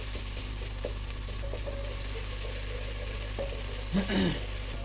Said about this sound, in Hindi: मैंने लहसुन डाल दिया, अब इसको थोड़ी देर फ्राई करेंगे